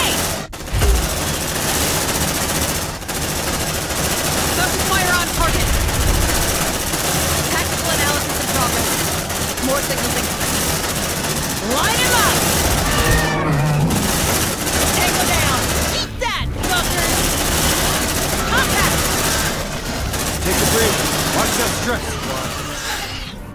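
Squad weapons blaze away in Aliens: Dark Descent, sustained loud automatic fire with sharp breaks and bursts, voices calling out amid the shooting.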